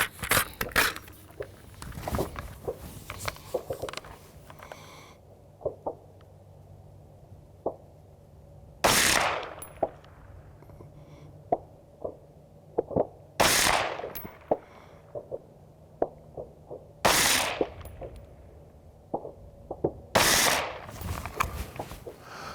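Rifle fitted with a Trijicon ACOG TA31 scope fired at head-sized targets outdoors, about six loud sharp shots spaced several seconds apart, with scattered handling clicks and rattles between them and no talking.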